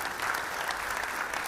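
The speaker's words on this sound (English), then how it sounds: "Can we please give that initiative a round of applause?" Brief, steady burst of audience clapping in a hall at a youth crime prevention gathering in eThekwini, even and moderately loud throughout.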